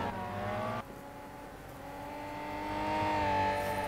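A Ferrari Enzo in the racing game Real Racing 3 on an iPad gives a continuous whining engine roar that dips briefly, then climbs steadily in pitch and volume as the car accelerates, with no voices.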